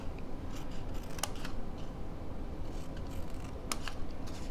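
Scissors cutting the flaps of a paper box, a couple of faint, crisp snips over a quiet, noisy background, close up, with no talking.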